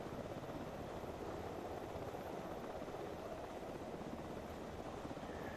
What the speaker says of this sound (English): it's a fun helicopter to fly with both 2 people and alone